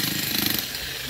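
Drilling for paving work nearby, a rapid rattling jackhammer-like pounding heard briefly at moderate distance, then easing to a steadier mechanical drone.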